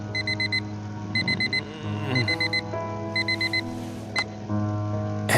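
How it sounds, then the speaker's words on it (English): Alarm clock going off in the video game Fragments of Him: four bursts of rapid high beeps repeat at a steady rhythm, loud and close, over a low sustained musical hum with a brief sharp tone near the end. "Every day that alarm goes off."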